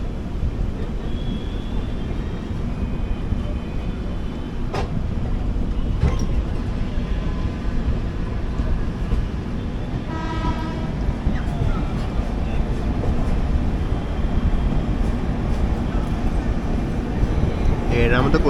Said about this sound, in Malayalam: നമ്മൾ ജസ്റ്റ് സേലം ജംഗ്ഷൻ റെയിൽവേ സ്റ്റേഷനിലോട്ട് കയറുകയാണ്